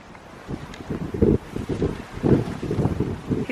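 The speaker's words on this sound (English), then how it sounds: "It's a little blustery, a little chilly." Blustery, chilly wind buffets an outdoor microphone, giving loud, uneven low rumbling gusts that swell and fade across the whole stretch, with no voices.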